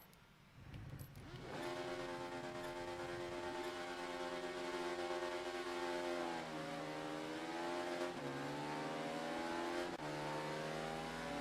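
Ducati motorcycle engines in the racing game Ride 3 rev hard at a race start, a loud sustained multi-engine drone climbing through gear shifts over about ten seconds.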